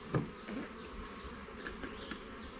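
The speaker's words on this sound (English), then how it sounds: "There's bees in here." Bees buzz in a bee yard with a low, continuous drone and several close individual flybys that rise and fade, over a quiet outdoor background.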